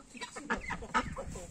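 Chickens cluck softly on an organic chicken farm, with a faint, quick run of short clucks close by and no talk over them.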